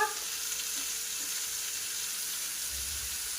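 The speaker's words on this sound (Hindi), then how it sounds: "अब इन्हें फ्राई कर रही हूँ इनके साथ।" Capsicum sizzles in a pan with onion, ginger and garlic, a soft continuous frying hiss that stays fairly quiet and even throughout, with no voices.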